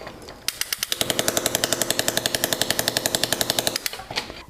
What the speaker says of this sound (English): the hammer handpiece for the flex shaft will actuate as soon as you press